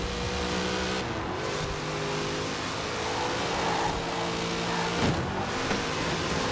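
A Corvette C5 engine roars continuously while drifting in Forza Horizon 4, a sustained loud rev with tire noise and small surges in pitch, with no pauses.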